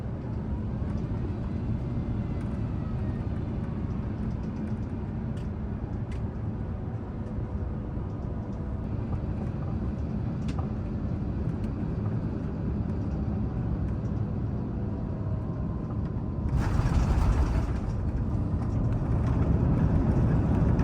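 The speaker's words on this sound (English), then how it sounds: "Here we are on our descent into Dallas-Fort Worth International Airport, so sit back and enjoy as we touch down." Loud, steady rumble of an Air France A350 cabin during descent and touchdown at Dallas-Fort Worth, with continuous engine and airflow roar and a brief burst of louder noise near the end as the jet lands.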